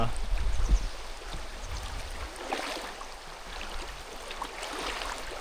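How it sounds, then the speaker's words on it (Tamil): Fast-flowing river water rushing around someone wading across mid-river on foot near Konni in Pathanamthitta district, a steady broadband wash with low splashing bursts early on, close to the microphone. "தண்ணி நல்லா ஸ்பீடில் போகுது"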